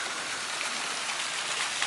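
The waterfall inside Cathedral in the Desert, a canyon alcove at low lake level, pours in a steady, loud, broadband rush of falling water with no pauses.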